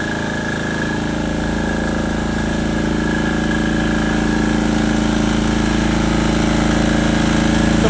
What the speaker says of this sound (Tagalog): Ito po yung ilang generator para mag-support ng ilang kuryente guys.